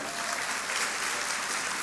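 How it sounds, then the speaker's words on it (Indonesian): A church congregation applauds during a sermon, a continuous, even roar of many hands clapping, fairly soft and somewhat distant, steady from start to finish. "kasih tepuk tangan tuh Tuhan"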